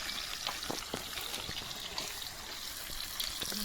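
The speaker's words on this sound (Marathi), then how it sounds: "तेल टाकतो पहिला" Cooking oil poured steadily into a pan to start egg bhurji, a soft continuous trickle close by with faint clinks over it and no talking.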